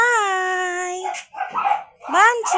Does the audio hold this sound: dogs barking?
yes